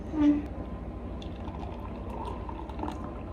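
Beer fizzes and crackles softly in a glass, a steady faint sizzle of popping bubbles after a brief pouring splash.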